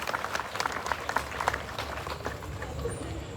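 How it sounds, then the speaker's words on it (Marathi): An audience at a lamp-lighting ceremony claps steadily, a dense patter of many hands that thins out toward the end, with voices mixed in. "आपण सर्वजण देखील टाळ्या वाजून या दीप प्रज्वलनामध्ये सहभागी होऊया."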